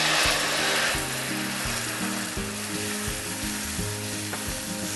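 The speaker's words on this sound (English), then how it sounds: "We're going to add in about half of our coconut milk." Coconut milk sizzling and frothing in a hot pan where bluegill fish were just browned for a curry, a steady loud hiss with stirring scrapes throughout, no talking.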